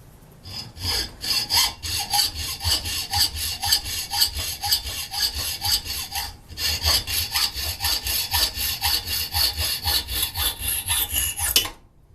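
A hacksaw cuts in steady back-and-forth strokes, each one a rasping scrape. The rhythm is even and close up, with one short pause in the middle and no talk.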